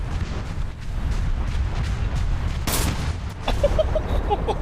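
Dense, continuous tank machine-gun fire rattles alongside rumbling explosions in War Thunder, loud and close, with a voice briefly heard under the din.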